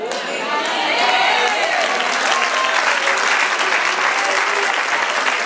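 A church congregation applauds during a Spanish-language sermon, sustained dense clapping from a large crowd swelling slightly and holding steady, with a few faint voices mixed in.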